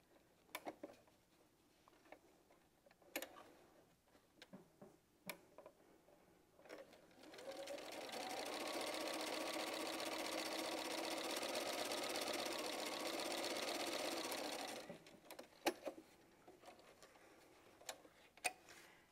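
A sewing machine stitches quilt fabric strips with a quarter-inch seam, running steadily for about seven seconds. Quieter ticks and handling clicks come before and after the run.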